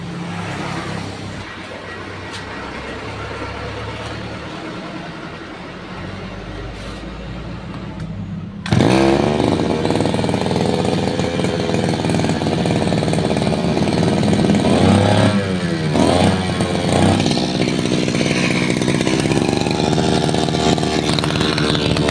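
Small gasoline grass cutter engine after a flooded carburetor repair, quiet at first then abruptly starting and running loud and steady nearby with a buzzing whine that surges in revs midway.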